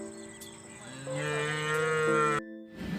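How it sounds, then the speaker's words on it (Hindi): A cow moos in a long drawn-out call, close and fairly loud, rising in strength before cutting off, with faint background noise afterward. "आज की मॉर्निंग की शुरुआत गौ माता के आवाज़ के साथ"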